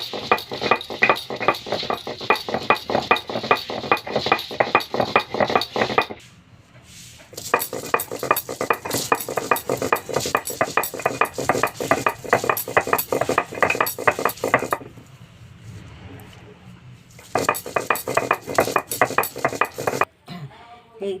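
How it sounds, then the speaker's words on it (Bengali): Coriander leaves ground into a paste on a grinding stone: steady, rhythmic rubbing and scraping strokes in long runs, close and moderately loud, broken by a couple of short pauses. "অল্প অল্প করে আমি এগুলোকে বেটে নিচ্ছি। ভালো করে মিহি করে কিন্তু বাটতে হবে।"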